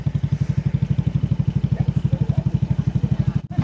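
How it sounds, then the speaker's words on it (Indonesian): A Honda Supra motorcycle engine runs close by with a loud, rapid, even putt-putt pulse and a rattly edge, holding steady with a brief dip near the end. "Ini motor Supranya."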